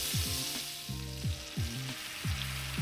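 Butter, olive oil and chopped roasted garlic fry in a hot pan with a steady bright sizzle and a faint tonal hum beneath it.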